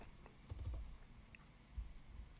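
Quick keystrokes on a computer keyboard at an Arduino setup, a short close burst of clicks followed by a lone keypress after a pause, faint and alone.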